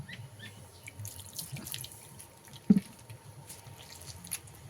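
Water poured onto mashed palm fruit pulp makes soft wet trickling and squishing sounds, close and quiet, with one sharper splash partway through.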